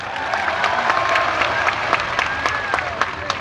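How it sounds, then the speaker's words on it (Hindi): An outdoor crowd at a farmers' mahapanchayat rally claps steadily after being urged to cheer, a dense continuous applause with occasional whistles and sharper claps throughout. "एक बार जोरदार ताली बजानी तो इनके लिए बजाओ"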